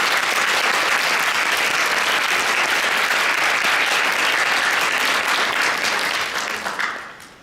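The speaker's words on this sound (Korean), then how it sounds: "우리 감사의 박수를 한번 치겠습니다." An audience claps in thanks for volunteer shepherds, a full and steady burst of applause that carries on for several seconds, then tapers off and fades out at the end.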